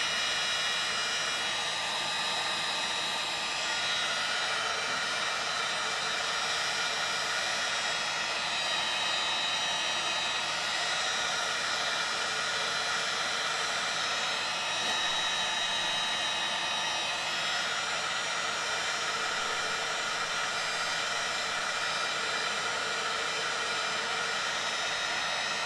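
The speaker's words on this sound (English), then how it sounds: "I can zap it with a heat gun or a hair dryer." A steady, loud blowing roar from a heat gun or hair dryer used on clay at a potter's wheel runs continuously without pause, no voices over it.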